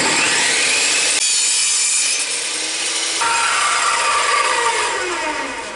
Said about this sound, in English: Take the rest of my board and I'm gonna rip it.